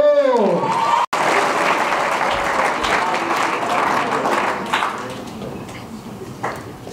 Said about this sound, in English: So one time I need y'all to make some noise.